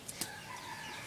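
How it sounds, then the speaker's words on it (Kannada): A small chicken gives a couple of brief, faint clucks over a quiet outdoor background, with a soft tonal call trailing after. "ಸಣ್ಣಗಿದೆ ನೋಡಿ ಕೋಳಿ."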